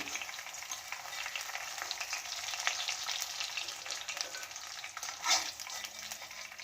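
Chicken 65 pieces fry in hot oil, giving a steady, close sizzle and crackle with dense popping that stays even throughout, briefly swelling once near the end.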